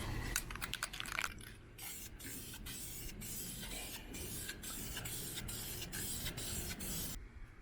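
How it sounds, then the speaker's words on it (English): Aerosol can spraying silver paint onto an engine part in a garage, a steady continuous hiss lasting several seconds with a few short bursts and taps at the start. "I sprayed that in one super heavy coat"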